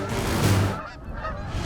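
Canada geese honking during a fall hunt in New York, with one loud, close honk followed by fainter honks in the background.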